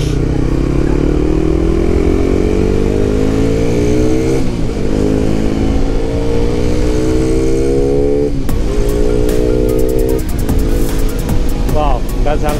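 Motorcycle with a quiet aftermarket exhaust revving and riding past, its steady engine drone rising in pitch, loud and close throughout, with brief shifts and clatter near the end.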